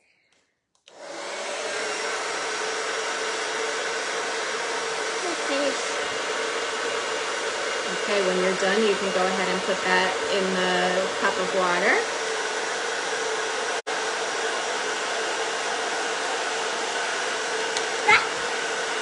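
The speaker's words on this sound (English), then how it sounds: "I'm going to blow this dry" A hair dryer switches on and blows steadily with a loud, constant whooshing hum over drying glaze, while a voice speaks briefly over it.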